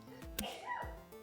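A person sneezes once, a sharp, close burst that breaks through a busy background with faint tonal sounds. A softer follow-up sound comes shortly after.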